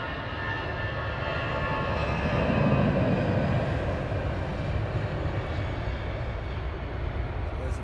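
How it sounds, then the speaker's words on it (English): A Virgin Atlantic A350 airliner taxis at London Heathrow, a steady jet roar that swells slightly midway and holds at a moderate distance, with no voices. "There's the Virgin 350 taxiing on."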